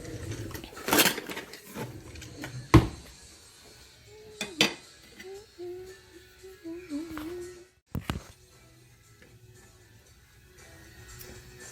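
Metal kitchen utensils clatter and clink as someone rummages through them for a spatula while baking, with loud sharp knocks and rattles, and a person murmurs briefly in the background.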